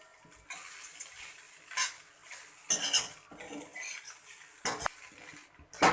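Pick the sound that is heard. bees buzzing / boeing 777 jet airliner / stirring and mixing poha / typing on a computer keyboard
stirring and mixing poha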